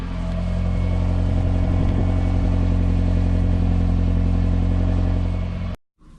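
A Toyota Camry engine idles steadily, heard close at the exhaust, with a low, even exhaust rumble and hum, then cuts off abruptly near the end.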